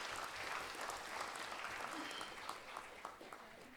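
Applause from a quiz competition audience for six teams on stage, steady clapping from many hands throughout, fairly distant and moderate in level, with a few sharper claps near the end.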